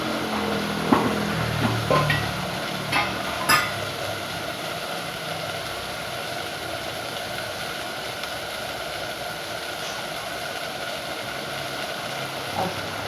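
Masala for chole fries in a pan with a steady low sizzle, with occasional clinks and scrapes of stirring early on, then a constant soft frying hiss with no talk.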